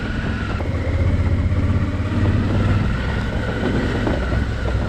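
Motorcycle fitted with trail tyres cruising along a country road, a steady low engine drone with wind rush at the microphone throughout, no speech.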